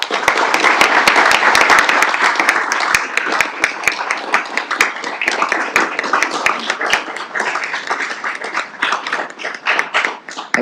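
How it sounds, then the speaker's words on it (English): A big round of applause at a community and protective services committee meeting, steady dense clapping from a room of people for about ten seconds without letting up. "let's just give him a big round of applause"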